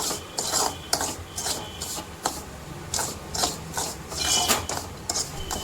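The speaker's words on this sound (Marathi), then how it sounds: "आता मी रवा भाजून घेते मस्तपैकी छान गुलाबी कलर येऊ देते" Semolina (rava) is stirred as it roasts in a pan, giving soft repeated scraping and rubbing strokes in an uneven rhythm, close and fairly quiet.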